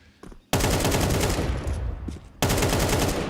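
Bursts of rapid MAC-10 submachine gun fire in Counter-Strike, two long loud sustained volleys separated by a brief drop, close and dominant with faint game sounds between.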